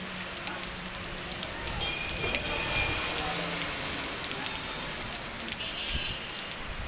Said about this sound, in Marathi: पंढरपूरमध्ये चांगला पाऊस पडत आहे